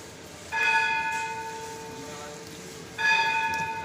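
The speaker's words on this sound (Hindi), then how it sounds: "मुर्शिद सखी लाल शाहबाज की घड़ियाल की आवाज़ सुन रहे हैं आप" Ghariyal bell struck at the shrine of Lal Shahbaz Qalandar in Sehwan before the evening dhamaal, two clear metallic strikes about two and a half seconds apart with ringing decay over outdoor crowd murmur.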